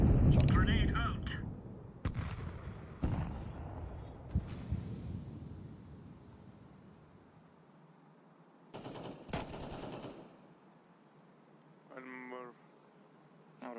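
Counter-Strike 2 grenade blasts and gunfire open with a loud burst that fades into a rumbling tail, followed by a few sharp shot cracks later on, with brief voice chatter near the end.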